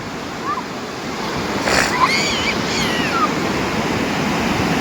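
Sea waves break on a beach in a steady, broad wash of surf that fills the whole stretch, with people's voices, including a child, heard briefly over it.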